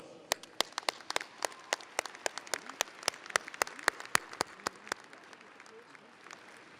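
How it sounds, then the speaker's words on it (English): Applause in the arena at NJIT's 2018 commencement at the Prudential Center: sharp, individual claps, close and fairly sparse, come in an uneven rhythm and taper off after about five seconds, leaving faint hall ambience. "Let us acknowledge them with our applause."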